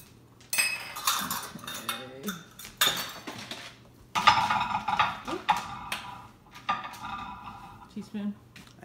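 Metal measuring cups and spoons clink and rattle against dishes while baking chocolate chip cookies at home, a busy run of close, bright clatters with brief pauses and some speech mixed in.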